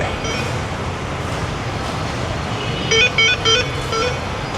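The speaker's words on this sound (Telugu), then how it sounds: "మొత్తానికి మనం మెట్రో స్టేషన్లో ఉన్నాం" Inside a metro station, a steady broadband rumble of trains and platform ambience fills the space, with a short run of three clear electronic beeps near the end.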